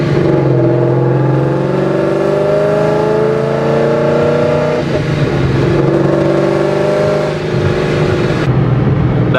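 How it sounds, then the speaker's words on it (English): A turbocharged car with a Tial blow-off valve and aftermarket exhaust cruises steadily, its engine drone rising and falling in pitch as gears shift, loud and close, with a brief hiss near the end and no talking. "I'm sure you guys could probably hear the blow-off valve. Maybe not, or the sound of my exhaust"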